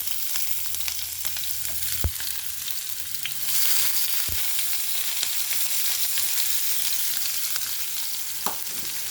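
Mustard seeds, cumin and onion frying in hot oil make a continuous loud sizzle, swelling as the onion goes in, with a few sharp clanks of a spoon against the pan.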